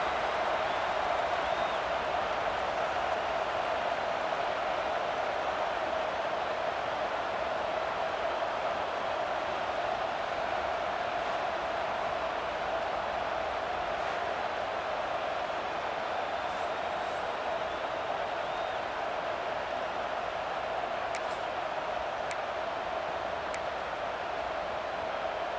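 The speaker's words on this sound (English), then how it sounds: "And you just know the home crowd is loving this." Home crowd noise in the EA Sports College Football 26 video game, a steady, dense roar of cheering that holds at an even level for the whole stretch with no break.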